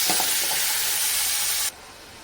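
Egg thokku simmering in a pan, giving a steady broadband frying hiss that runs evenly and then drops away sharply near the end, with no voices.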